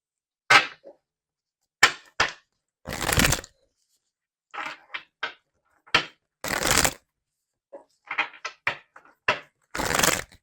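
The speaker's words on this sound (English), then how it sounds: "let's get some more cards to see more of what's going on here" Tarot cards being shuffled close up in short separate bursts of riffling and snapping, with brief pauses between each shuffle and no talking.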